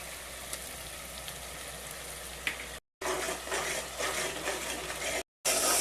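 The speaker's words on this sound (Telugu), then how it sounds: "ఇది కొంచెం వేగిన తర్వాత అల్లం వెల్లిపాయ పేస్ట్ వేసేసుకోండి" Ginger garlic paste fries in a pan of onions for chicken curry, giving a steady, close broadband sizzle with brief cutouts and occasional stirring scrapes.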